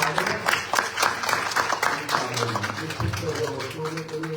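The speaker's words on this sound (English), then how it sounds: "I give her a big round of applause" Audience at a Hindu temple Navaratri night giving a round of applause for a singer, uneven clapping from a modest crowd mixed with talk and a sustained musical tone underneath.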